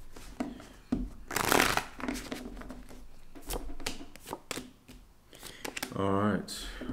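Tarot cards are riffled and shuffled in quick papery bursts, close up, with a person talking intermittently between the shuffles.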